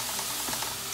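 Onion, garlic and green chili frying in oil in a home kitchen for a dry-fish and pumpkin curry, a continuous close hissing sizzle with faint stirring.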